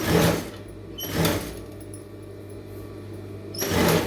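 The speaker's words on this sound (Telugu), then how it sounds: "నీట్గా స్టిచ్ చేసుకుంటూ వెళ్ళిపోవాలి" A sewing machine stitching a blouse sleeve runs in short bursts, three rapid whirring runs of stitching separated by quiet pauses with a low steady motor hum underneath.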